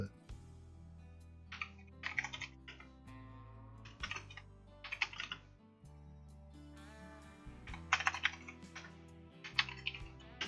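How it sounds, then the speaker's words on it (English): Typing on a computer keyboard during a StarCraft TvZ match cast, with irregular bursts of quiet clicks set against steady low musical tones in the background. "Let me type it."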